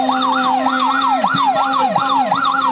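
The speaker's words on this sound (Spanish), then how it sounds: "o el ulular de sirena le va a indicar," A siren marks the last lap of a cycling race, its rising and falling wail repeating in a steady rhythm, loud and close with no talk over it.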